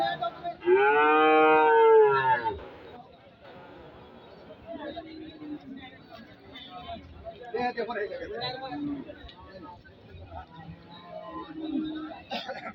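A loud, drawn-out cow moo rings out close by at a cattle market in Gazipur, followed by steady chatter from several people amid a busy outdoor crowd.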